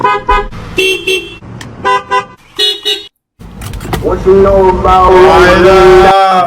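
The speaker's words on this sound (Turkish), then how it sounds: "Tesla'da istediğin şarkıyı ya istediğin bir sesi korna yapabiliyorsun." A Tesla's custom horn plays a tune in short, bright, repeated honks, pauses, then gives way to a longer sustained musical phrase over background noise.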